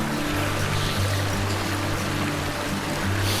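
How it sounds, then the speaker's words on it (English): Water runs steadily in a small brook near an off-grid cabin, a constant close rushing and trickling flow with no pauses and no voices. "water's running nicely in my favorite little brook here"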